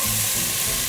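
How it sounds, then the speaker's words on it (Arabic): Onion frying in a couple of large spoonfuls of olive oil at the start of a barley soup, a steady close sizzle heard alone. "أول شي رح نحط شوية زيت زيتون تقريب المعلقتين الكبار، وعلى السريع بدنا نزيد عليه البصل."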